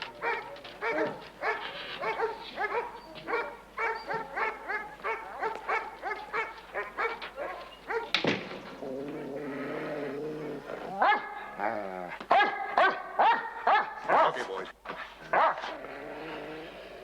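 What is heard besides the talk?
dogs barking and growling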